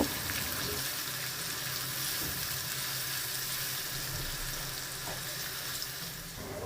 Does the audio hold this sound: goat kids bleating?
no